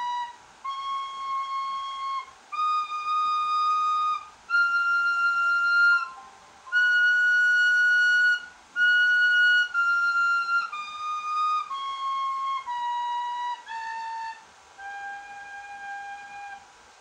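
Penny whistle, also called a steel whistle, playing a simple melody of clear sustained notes in separate phrases with brief pauses between them, bright and close with no talking.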